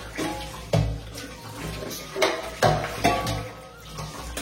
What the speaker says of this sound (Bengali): একবারে বসে সব বাসন একবারে করবো